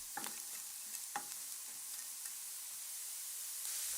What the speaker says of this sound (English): At this point, the onions can be added. Stir regularly to ensure the onions do not burn.